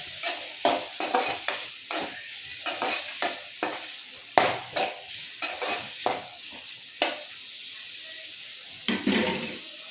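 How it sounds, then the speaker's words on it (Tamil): Onions with a pinch of salt sautéing in oil for an egg gravy, steady sizzle broken by repeated scraping stirs of a spoon against the pan, close and fairly loud. "ஆயில் ஊற்றிட்டு பெரிய வெங்காயத்தை ஒரு 4 பெரிய வெங்காயம் எடுத்துருக்கேன் முட்டை கிரேவிக்கு"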